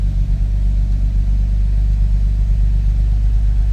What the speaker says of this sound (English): Push start on the floor, and it fires right up.